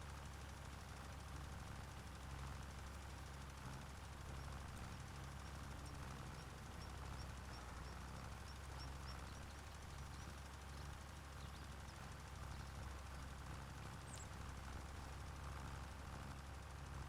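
A tractor engine in the Farming Simulator 25 game runs steadily at a low, constant drone with a faint knocking hum, unchanging and alone for the whole stretch, with no talking over it.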